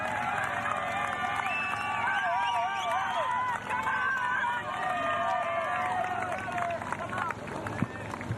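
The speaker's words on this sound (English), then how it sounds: "She's going to get the full force of that clapping and cheering" Spectators line the course of a Paralympic marathon on the Champs-Élysées in Paris, clapping and cheering steadily in a broad, continuous crowd roar with scattered whistles and shouts, mixed with footsteps of passing runners.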